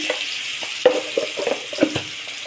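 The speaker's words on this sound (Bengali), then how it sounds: "আলুটা এখন ভালো করে ভেজে নেব" Potatoes frying in hot oil in a pan, with a soft steady sizzle broken by several sharp stirring clinks and scrapes from a spoon against the pan.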